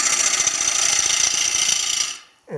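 A woodturning gouge makes a pull cut across a spinning closed-form bowl on a lathe, giving a close, bright, continuous scraping hiss for about two seconds before it cuts off abruptly.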